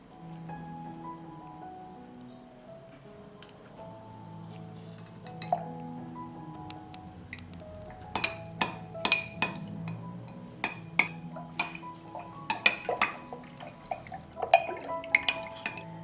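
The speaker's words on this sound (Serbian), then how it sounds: "2 supene kašike razmutit ću u 700 ml vode." Slaked lime is stirred into water in a container, first as a soft swishing, then as repeated sharp clinks of a spoon against the vessel, growing busier toward the end; no speech.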